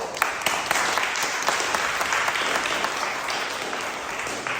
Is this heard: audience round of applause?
yes